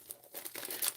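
Brushed silver and gold foil sheet crinkles in a short, faint burst of soft crackles and rustles close by, with no voices.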